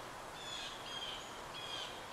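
Several faint birds give thin, high whistled calls in a meadow by an old beaver pond, a few short repeated notes over soft, steady background hiss.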